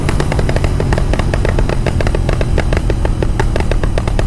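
Rapid crackling exhaust pops from a tuned Royal Enfield GT 650, loud and close, firing in quick uneven bursts over a steady engine drone for the whole stretch.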